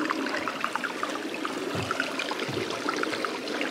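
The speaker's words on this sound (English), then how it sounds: "By a babbling brook." A small babbling brook flows beneath a tiny footbridge on a trail in Wyoming's Bighorn Mountains, giving a steady close wash of water with light trickling and gurgling detail throughout.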